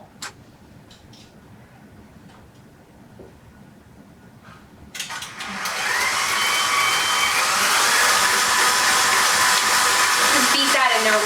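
A stand mixer starts partway through and beats salted caramel into cupcake batter with a loud, steady whirring after a few quiet ticks and clinks.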